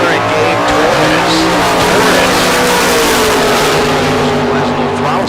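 Drag race cars launching from a bracket race start line with a throttle stop, a loud sustained engine roar with tire noise under a commentator's voice.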